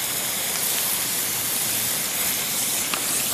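A lawn sprinkler spraying water, a steady close hissing spray continuing evenly throughout.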